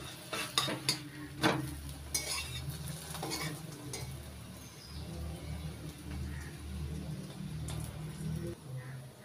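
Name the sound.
potato paratha frying in white oil in a pan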